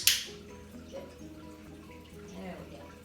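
A single sharp click from a dog training clicker snaps at the start, close and crisp, followed by quiet room noise with faint, indistinct voices in the background.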